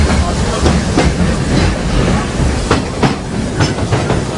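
The Walt Disney World Railroad train rolling along its rails, a loud steady rumble with rhythmic clickety-clack wheel beats close by, under a narrator's voice.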